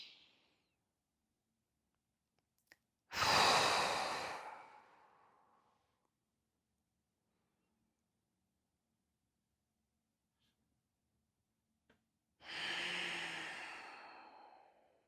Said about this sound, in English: Breathe as deep as you can here.